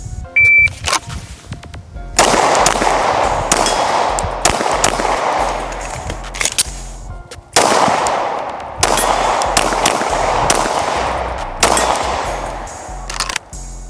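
Rapid bursts of gunfire in strings of several shots, loud and close with sharp onsets, separated by brief pauses during a timed shooting drill.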